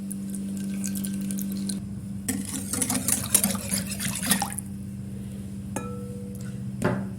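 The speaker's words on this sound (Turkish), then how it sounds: "Bir çay bardağı sıvı yağımı ilave ediyorum." Vegetable oil, about a tea glass of it, pours into a bowl of simit dough, giving a soft continuous liquid splash and glug close by with a low steady hum underneath and a couple of light knocks at the end.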